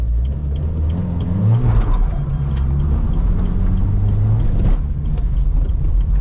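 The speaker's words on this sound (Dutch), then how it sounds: "En hij gaat nu volle patrol tegen die auto knallen." A car engine roars loudly at full throttle, revving up and accelerating hard with rising pitch, steady rumbling throughout, as it drives to ram another car.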